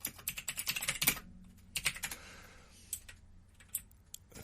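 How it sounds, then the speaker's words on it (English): Rapid typing on a computer keyboard, with close, crisp key clicks coming in uneven bursts and short pauses, alone without talk. "Hang on, I'm typing it out."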